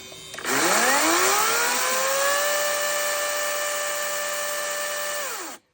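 A Kraissman cordless chainsaw on a Makita-type battery spins up in eco mode, rising to a steady, loud whining drone, holding level for about five seconds, then winding down abruptly.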